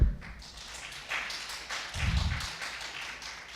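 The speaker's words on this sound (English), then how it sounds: "The applause will not be deducted from your time." A few audience members at a 2018 Boca Raton City Council candidates forum clap in a quick, fairly even rhythm that stays moderate and thin rather than building into a full ovation.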